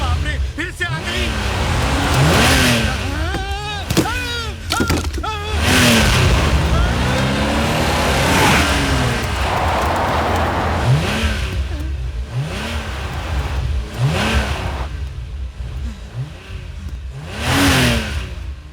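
A car engine revs and accelerates in loud repeated surges that rise and fall in pitch, close and continuous, mixed with overlapping talk and shouting.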